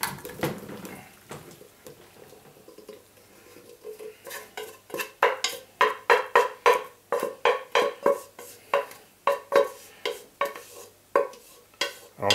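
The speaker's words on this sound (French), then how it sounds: "Je mélange à nouveau tout." A spoon scraping and knocking through a thick tartiflette mixture in a pan, starting soft and building into a steady run of loud, rhythmic metallic clacks close by.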